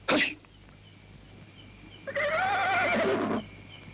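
A horse whinnies loudly in a long, wavering neigh lasting over a second, preceded by a short snort or sneeze, with no other voices present.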